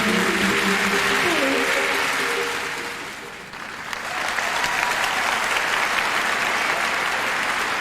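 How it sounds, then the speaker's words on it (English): Studio audience at an awards show applauding, a dense sustained round of clapping that swells, dips briefly in the middle, then builds again, loud and continuous. "Give her a nice big round of applause."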